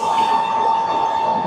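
A Himgiri Express passenger train rolls into Kolkata station at night, a steady loud rumble of wheels on rails with a sustained high tone over it, continuous throughout with no voices.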